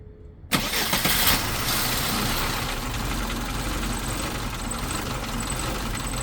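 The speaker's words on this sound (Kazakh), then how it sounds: "Машинаның обороты дұрыс емес дейді" A Volkswagen Passat engine with faulty, fluctuating low revs starts abruptly and settles into a rough, loud idle that runs steadily and close by.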